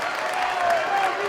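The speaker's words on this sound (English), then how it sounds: "The crowd getting into it." Crowd at a girls high school basketball game applauding and cheering, a steady broad roar of clapping with a commentator talking over it.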